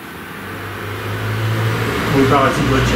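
Car engine noise rumbling steadily through the recording, with a low drone that swells and revs slightly toward the end, heard alongside faint background voices in a room.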